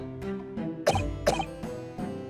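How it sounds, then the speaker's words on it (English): Two harsh, wet coughs from a character in The Great Ace Attorney Chronicles, close and fairly loud over a sustained musical background, with softer breathy sounds around them. "You seem to be coughing up some"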